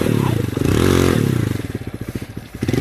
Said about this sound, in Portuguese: o Giovanni fazendo ar na moto